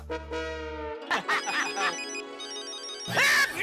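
A mobile phone ringtone plays loudly in a sitcom scene with a group of men, a melodic electronic tune that continues while voices and commotion break in over it.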